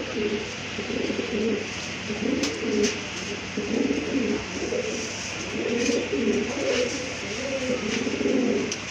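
A pigeon coos repeatedly in a steady run of low, rolling phrases, close and clear over faint background noise, with no talking.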